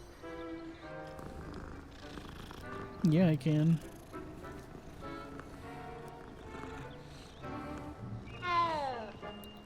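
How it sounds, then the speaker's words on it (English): A cat in the game Hogwarts Legacy gives a short meow amid low background music and ambient game sounds, while a person talks briefly over it. "There's a cat. Can I pet the kitty?"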